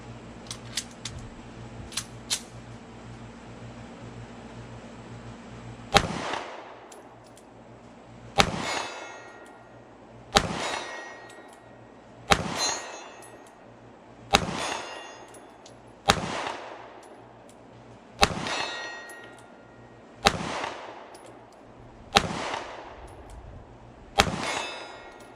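Sig P365 AXG Legion 9mm pistol rounds striking a steel plate at 40 yards: around nine sharp clangs spaced a couple of seconds apart, each ringing briefly, with quiet in between and no talk.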